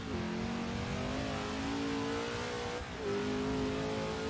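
A race car engine climbs up through the gears with a continuous rising whine, a brief dip at each shift before pulling higher again, heard steady and fairly close with no speech.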